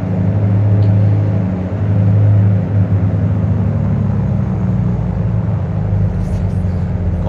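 Simulated aircraft engines in a flight simulator game, a loud, steady low droning rumble that dips slightly partway through as the right engine is failed, continuous with no talking.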